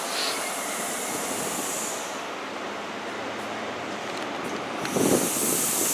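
A Great Western Railway express from Penzance to London Paddington pulls away from Newton Abbot with a steady, loud rumble and hiss of engines and wheels, swelling slightly near the end.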